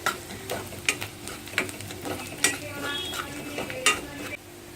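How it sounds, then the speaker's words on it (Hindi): Chopped onions sizzle in hot oil while being stirred until golden brown for a spinach and toor dal, with a steady frying hiss broken by repeated scraping clinks of a spoon against the pan. "जब तक प्याज गोल्डन ब्राउन ना हो जाए तब तक हम इसे भूनेंगे।"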